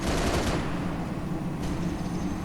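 Gunfire in the video game Halo Reach on Legendary difficulty, in the New Alexandria level: loud, dense automatic bursts up front, then a rough sustained rattle with a later sharp report, no talking.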